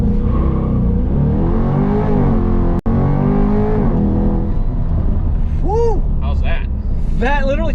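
A Chevrolet C8 Corvette accelerates hard in track mode with PTM active, its engine note rising steadily and loud from inside the car, with one brief dropout and people talking and exclaiming near the end.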